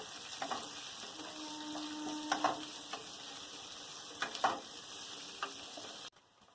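Onion and garlic fry in hot oil with a soft, steady sizzle, broken by a few clinks and scrapes of a spatula, quiet and close, before the sound cuts off abruptly near the end.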